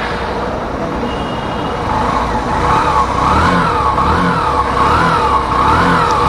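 A Hero Passion Pro Xtec motorcycle engine from 2022 starts and revs in repeated rising and falling swells, loud and close, with no talk over it.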